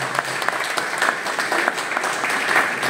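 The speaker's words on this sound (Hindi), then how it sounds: "एक बार जोरदार तालियां उनके लिए" An audience at a seminar in Salasar claps loudly, dense overlapping applause with sharp individual claps standing out, continuing steadily through the short stretch with no voices.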